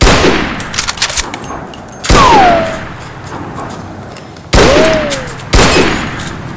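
Sharp gunshots in a Thai action scene, three loud broadband blasts spaced a couple of seconds apart, each leaving a whistling ricochet-like tone, over a noisy, busy background.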